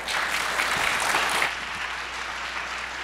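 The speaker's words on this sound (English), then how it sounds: "Please give them a round of applause" Audience at a mine closure session of a 2017 mine forum applauding a panel discussion, dense clapping that swells then eases slightly, steady and fairly near with no one speaking over it.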